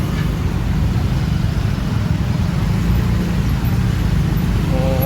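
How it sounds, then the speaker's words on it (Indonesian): Heavy roadway noise from a long traffic jam, car and truck engines idling and rumbling at close range, steady and unbroken for several seconds. "Panjang ini macetnya."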